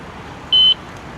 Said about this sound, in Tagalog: ang maganda sa lock na to, may alarm siya